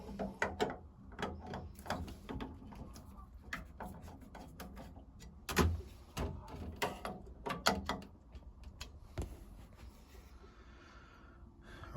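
A plumber undoes two screws holding a plate on a plumbing fitting, with close, irregular clicking and ticking of the screwdriver and short scrapes that fade toward the end.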